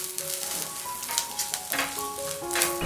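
Onions frying in hot oil with turmeric powder stirred in, a steady soft sizzle broken by scraping spoon strokes against the pan, close and without voices.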